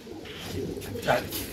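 A flying pigeon coos softly nearby, a low throaty warble, with muffled voices in the background.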